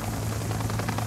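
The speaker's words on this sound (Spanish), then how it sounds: "Los helicópteros de la lucha contra el narcotráfico y el terrorismo hoy cumplen una misión diferente." An anti-narcotics helicopter flies close by, its steady rotor drone loud and continuous throughout the short moment.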